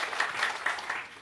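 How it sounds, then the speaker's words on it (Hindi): A crowd at a panchayat committee meeting claps for a speaker, a short burst of dense, steady applause heard fairly close with no talking over it. "जोरदार ताली जनार्दन जी के लिए।"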